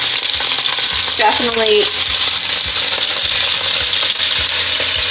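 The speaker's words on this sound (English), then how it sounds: "And we're just gonna let it fry, sizzle, then we'll turn it down a little bit lower" Food frying in vegetable oil in a very hot pan, a steady loud sizzle with occasional stirring clinks, while a voice speaks briefly.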